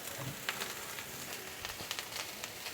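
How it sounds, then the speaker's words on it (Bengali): Oily fish pyaji made with poti fish frying in a pan: a faint, steady sizzle of hot oil with small pops and crackles, and no voices. "তো আমি এটাকে আর একটু ভেজে নেব।"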